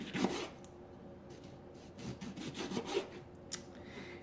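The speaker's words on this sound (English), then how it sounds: "here I am going to also slice the lemon into just thin slices here, about 1/4 of an inch thick" A knife slices a lemon into thin quarter-inch rounds on a cutting board, giving faint scraping, rubbing cuts that come in a few quiet bursts with no talking.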